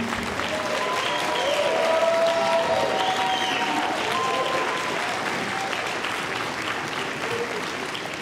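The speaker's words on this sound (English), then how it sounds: "Everybody applaud them" Sustained applause fills a reception hall as honorees at a Who's Who in Black Columbus induction stand, an even roar of many hands over eight seconds, with faint voices and cheers mixed in.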